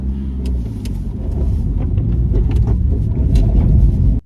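A 1992 Toyota Carina E driving on a road in rush-hour traffic, with a steady low engine and road rumble, loud and continuous throughout, ending abruptly.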